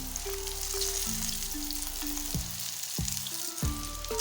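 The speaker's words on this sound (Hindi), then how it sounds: "अभी मैं इसका साइड आराम से चेंज कर लेता हूँ बहुत ध्यान से, क्योंकि इस टाइम ऑयल गर्म होते हैं" Maize flour roti frying in hot oil just after being flipped, giving a steady close sizzle with soft scraping and handling noises breaking in near the end; no talking.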